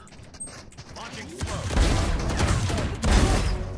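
Rapid bursts of gunfire from a competitive shooter video game crackle in two loud volleys, the second sharper and nearer, with a voice speaking briefly over the fire.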